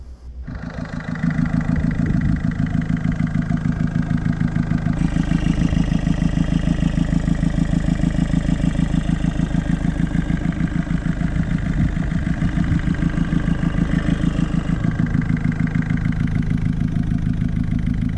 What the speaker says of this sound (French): avec un moteur qui tourne vraiment pas bien. Donc qui tourne apparemment sur 3 cylindres.